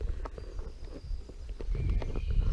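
A horse walks down a narrow woodland path, hooves falling in a soft, uneven clip-clop, fairly faint against light outdoor background noise.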